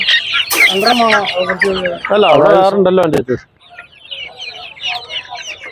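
Chickens, including Giriraja-type and native hens, cluck and squawk loudly up close at a market, overlapping with a person talking, then quieter clucking continues as the voice stops.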